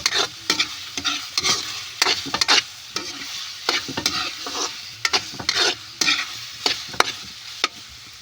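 Sisig stirred while frying in a pan: close, repeated scraping strokes of a utensil over a steady background sizzle, in an irregular rhythm.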